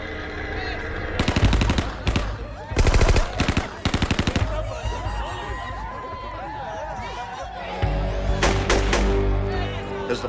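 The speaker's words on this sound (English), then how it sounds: "Someone cuts loose from the door of the hut with an AK-47 on full automatic." AK-47 rifle firing on full automatic from a hut doorway, loud sustained bursts of rapid shots separated by pauses, with crowd noise and voices in the background between bursts.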